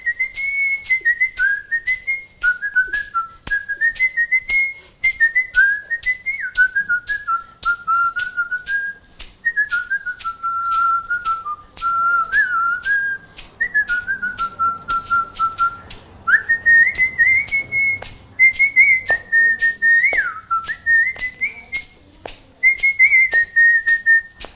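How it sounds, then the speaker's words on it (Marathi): A woman whistles an old Raj Kapoor film song, a loud, clear, continuous melody of rising and falling notes that carries on alone for about twenty-five seconds. "जेव्हा तुम्ही हे अशी शीळ वाजवता"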